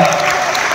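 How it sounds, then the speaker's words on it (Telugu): An audience claps for the Swamiji at a gathering, a loud, dense burst of applause that fills the whole short moment. "స్వామీజీ గారికి మరోసారి అందరూ చప్పట్లు కొట్టి"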